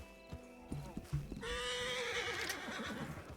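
A horse in Red Dead Redemption 2 whinnies loudly and sustained, with hoof clip-clops just before it, while startled by a nearby bear in the wilderness.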